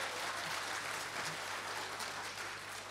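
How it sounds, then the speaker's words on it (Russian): Concert-hall audience applause greeting a musician: a continuous, fairly faint wash of many hands clapping at a steady level, with a low hum underneath. "ваши аплодисменты"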